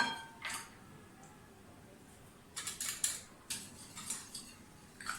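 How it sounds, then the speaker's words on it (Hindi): A spoon clinks and scrapes against a bowl while pasta salad with fruit, vegetables and chicken is mixed, in short, faint clusters of light metallic taps after a quiet start. "अच्छी तरह से मिक्स कर लें।"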